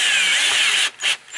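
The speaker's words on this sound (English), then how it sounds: "we're going to use the drill, and we're just going to tighten it down." A cordless power drill whirs steadily as it tightens screws on a patio light fixture, a close, loud burst that cuts off briefly near the end, then spins again in a short pulse.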